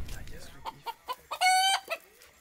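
A chicken in a village in Senegal: a series of short clucks building to a loud, drawn-out squawk, followed by one more cluck, close by with faint background noise.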